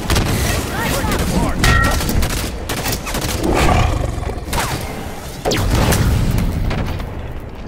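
Halo 5: Guardians firefight against Covenant Hunters, with rapid bursts of gunfire, booming blasts and roaring impacts packed densely and loudly, a sharp hit landing midway while voices talk over the battle.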